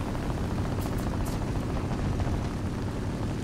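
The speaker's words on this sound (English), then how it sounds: "think I hear a plane" Aircraft engine drone in the tank combat game War Thunder, a continuous rumbling roar that stays steady and fairly loud without fading, with no speech.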